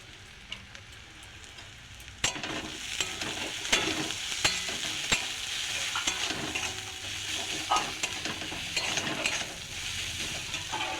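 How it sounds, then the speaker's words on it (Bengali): Kasuri methi fries in hot oil with salt, giving a steady close sizzle with scattered crackles and light scraping knocks against the pan, no voices. "আমি ওই তেলের মধ্যে একটু কস্তুরি মেথি দিয়ে দিলাম, স্বাদ মতো নুন দিয়ে দিলাম।"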